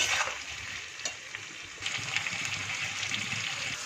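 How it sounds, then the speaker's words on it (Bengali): Tomato and chili paste sizzles and fries in a pan for a hilsa fish curry while it is stirred, giving a steady crackling hiss with soft scraping from the stirring. "এবার লঙ্কা বাটা দিয়ে দিলাম, এবার হালকা করে নেড়ে নেব।"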